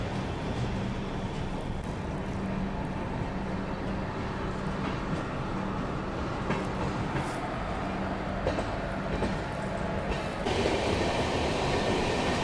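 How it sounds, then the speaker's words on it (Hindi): The Shirdi Mysuru Express runs on rails after leaving Guntakal Junction, heard from on board as a loud, steady rolling rumble with faint rhythmic wheel clatter throughout. "अपनी ट्रेन अब निकल चुकी है गुंटकल जंक्शन से"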